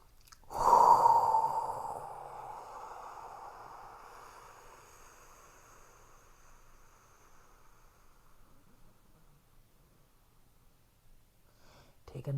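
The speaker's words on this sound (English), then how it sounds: "So set your intention, dear one, as we take a breath in" A single deep inhale and long exhale during a guided energy-balancing meditation, one loud close breath at first that slowly fades into a soft, drawn-out release, alone with no talking.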